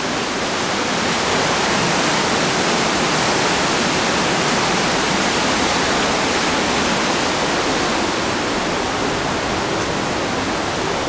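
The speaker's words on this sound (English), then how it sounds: "Dripping from all over the walls." Constant rushing water roars through the rock walls of Partnach Gorge in Germany, a loud, unbroken hiss of falling water that stays level throughout, with no talking over it.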